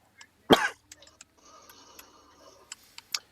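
A single sharp cough bursts out near the start, followed by faint ticking and quiet background noise.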